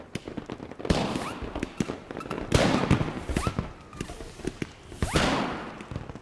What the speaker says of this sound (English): Fireworks are flying over the children's heads.